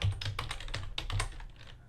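Typing on a computer keyboard during coding work, a steady run of quick, close key clicks with no voices.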